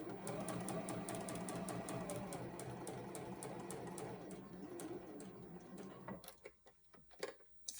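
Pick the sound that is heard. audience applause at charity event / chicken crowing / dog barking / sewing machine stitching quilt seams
sewing machine stitching quilt seams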